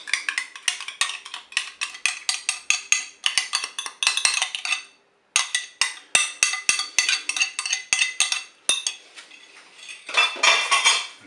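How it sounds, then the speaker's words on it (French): Rice and tuna salad mixed with a yogurt mustard sauce in a bowl, rapid rhythmic clinks and scrapes of a utensil against the bowl, loud and close with brief pauses and no talk. "Je mélange également."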